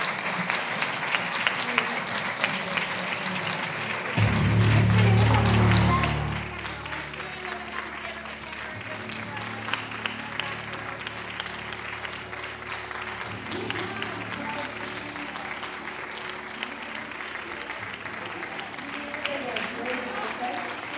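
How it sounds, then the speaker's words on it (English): Big round of applause from a school audience at a junior prize-giving ceremony, steady dense clapping filling the hall throughout, with a brief louder low rumble early on. "Let's give them a big round of applause."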